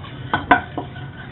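A spoon scrapes and clinks against a cooking pot while roux is stirred for shrimp gumbo, three short close scraping strokes with no talking.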